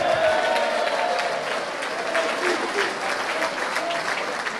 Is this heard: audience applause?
yes